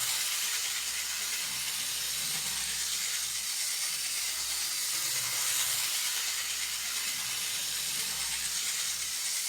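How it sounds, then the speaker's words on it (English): A 64-year-old 1960s Playcraft toy train set runs at full speed, giving a continuous, even high hiss and whir from its small motor and wheels, steady throughout with no talking. "It's quite a nice noise for a little toy train."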